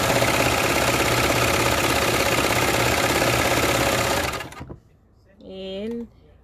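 A Baby Lock Victory serger runs on regular t-shirt knit fabric with a loud, steady mechanical whir for about four and a half seconds, then cuts off; a brief voice follows after a short pause.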